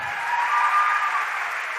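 Applause from an audience at a gathering, a steady wash of clapping hands swelling a little in the middle and holding at moderate loudness throughout.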